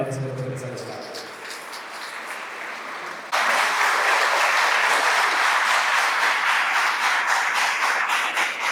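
Loud applause from a crowd of students and teachers at an anti-drug awareness rally, swelling abruptly partway through into dense, sustained clapping, with a voice over the quieter opening.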